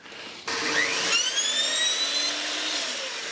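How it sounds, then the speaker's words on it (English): A mitre saw whines up to full speed and cuts through coving trim, a steady high-pitched buzz lasting a few seconds before spinning down. "So let's just cut our first mitre."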